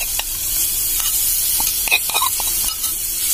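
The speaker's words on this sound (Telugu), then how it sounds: "సో మనం పన్నీర్ని రెడీ ఫ్రై చేసాం." Marinated paneer frying in a spoonful or two of ghee in a kadai, a steady close sizzle with intermittent stirring scrapes and small pops, no talking.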